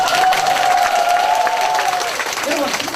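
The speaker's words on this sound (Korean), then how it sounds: "박수 한번 나와야 되는데 이때" An audience at a cancer seminar breaks into lively applause, with a voice sounding over the clapping as it fades toward the end.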